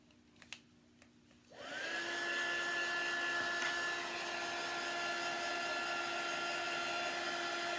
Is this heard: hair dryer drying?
yes